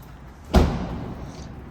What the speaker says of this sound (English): Note the sound of that door.